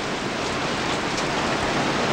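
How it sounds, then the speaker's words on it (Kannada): Heavy rain pouring down over a village, a dense unbroken hiss of falling water, steady and fairly loud with nothing else audible. "ನಮ್ಮ ಊರಲ್ಲಿ ಜೋರ ಮಳೆ ಬರ್ತಿದೆಯಲ್ಲ"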